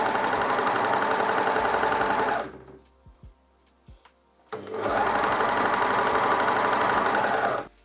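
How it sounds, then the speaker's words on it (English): An overlocker sews shoulder and side seams on a hook-and-eye top in two loud, steady bursts of rapid whirring, separated by a pause filled with a few soft clicks and handling taps. "I'm gonna do this in an overlocker"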